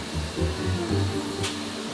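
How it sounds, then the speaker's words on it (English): A tire curing press works in a Vietnamese tire factory, giving a low mechanical hum with uneven tonal pulses and a short hiss of air or steam near the end, over steady factory noise. "We place it into a giant steamer called a curing press."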